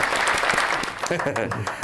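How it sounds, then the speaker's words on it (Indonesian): A studio audience applauds a podcast guest, a brief patter of claps with voices talking over it. "Tepuk tangan semuanya."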